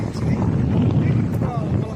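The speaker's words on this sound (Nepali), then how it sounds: "चिसो हावा चलिरहेको छ, खतरनाकै हावा चलेको छ" A strong wind roars and buffets the microphone in a continuous low rumble, with a faint voice underneath.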